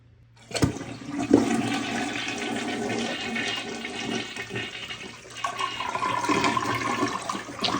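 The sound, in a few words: toilet flushing, tank draining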